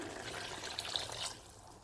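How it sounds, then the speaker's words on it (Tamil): Water is poured from a vessel into a simmering pot of Chettinad verum kuzhambu, a plain tamarind gravy. It makes a soft, brief splashing pour, close but quiet, with no talk. "இப்போ தண்ணி கலக்கிறேன்"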